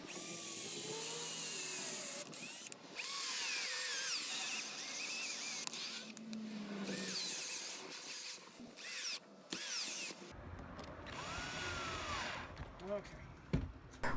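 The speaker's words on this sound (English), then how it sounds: "I've got my countersink bit installed on my drill, so let's go ahead and drill the holes here." A power drill fitted with a countersink bit bores holes for a homemade soap beveler, whining in bursts with short pauses between them, close to the microphone.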